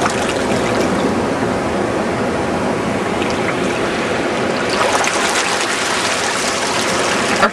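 Water in a Sonic video game flows continuously with a broad, steady rushing and gushing sound that stays loud and even throughout, no voices over it.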